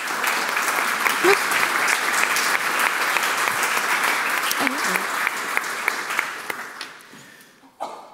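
Sustained applause from an audience at a university panel talk, dense steady clapping for several seconds that thins out and fades toward the end, with a few voices faintly mixed in.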